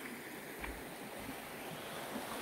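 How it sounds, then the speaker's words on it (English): A slightly swollen creek flows near a cabin on wooded acreage, making a steady broadband rush of moving water, continuous and moderately close, without speech. "the creek is up just a little bit right now"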